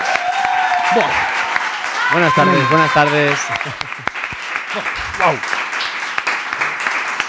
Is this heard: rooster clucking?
no